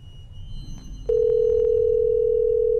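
A telephone dial tone from a video game, heard while calling the boss, starts abruptly after quiet background rumble and holds as a steady, loud, unbroken tone.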